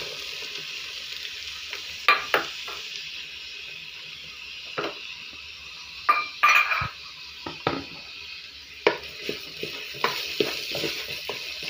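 Onions added to a hot frying pan with dried lemon and cardamom, giving a steady broad sizzle with scattered clinks and stirring scrapes of utensil against pan throughout.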